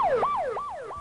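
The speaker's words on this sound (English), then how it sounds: "But quickly, there were sirens in the music mix." An emergency vehicle siren wails in rising and falling sweeps at a crowded outdoor rock concert, three quick cycles, clear and fairly close with no voices.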